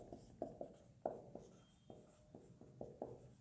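Chalk or marker strokes on a board during a history lecture: a string of faint, short tapping scrapes in an irregular rhythm, quiet and close, with no talking over them.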